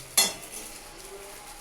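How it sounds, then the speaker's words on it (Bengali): Soybean muthia dumplings are dropped into hot oil, giving a sudden close splash and crackle that settles into a steady, quieter frying hiss. "আমি এখন একে একে মুইঠাগুলোকে তেলে দিচ্ছি।"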